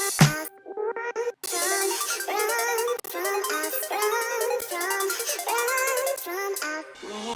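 Future bass filler layer of crashes and percussion samples: a bright noisy crash at the start, then a steady shimmering run of rhythmic chimes and ticks, dense and continuous, with a brief break near the midpoint, no voices.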